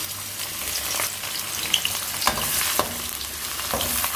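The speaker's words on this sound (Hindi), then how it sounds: "अब मैं उसमें डाल रही हूँ एक बड़े साइज़ का प्याज।" A large onion frying in very hot ghee in a kadai gives a steady, close sizzle, broken by a few sharper scrapes and taps from stirring.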